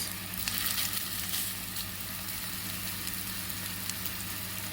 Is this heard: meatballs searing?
yes